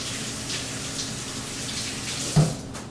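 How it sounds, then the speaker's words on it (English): Hands being rinsed under a running kitchen tap after handling fish, a steady close hiss of flowing water with a brief splash near the end and no talking. "and you wash your hands."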